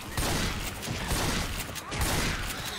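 Rapid, overlapping gunfire from the zombie shooter Left 4 Dead 2 crackles steadily through the whole stretch, loud bursts piling on one another with only brief dips.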